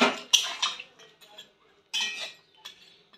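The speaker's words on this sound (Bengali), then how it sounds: "এর মধ্যে এবার আমি ধোকাগুলো দিয়ে দেব।" Dhoka lentil cakes go into a pot of potato curry with clinking metal knocks from a spoon and pot, a few distinct clanks in two bursts separated by quiet.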